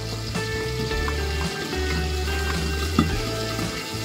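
Tangra fish fries in hot oil in a pan, giving a steady, close sizzling crackle throughout, with a low hum underneath and one brief louder pop near the end.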